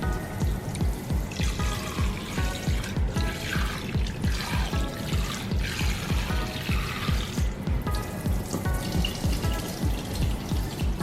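Tap water runs steadily and close over shrimp being rinsed, a continuous splashing stream with shifting gurgles, loud and unbroken throughout with no talking.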